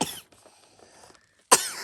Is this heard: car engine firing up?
no